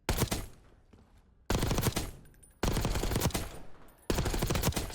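Video game automatic gunfire rattles at firing range targets in Black Ops 6, four loud close bursts, each about a second long and separated by short gaps.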